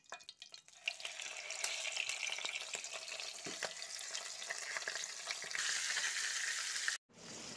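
Turmeric- and chilli-rubbed fish fries in hot oil, a close, dense, continuous sizzle with crackles and pops throughout, briefly cut off near the end before resuming.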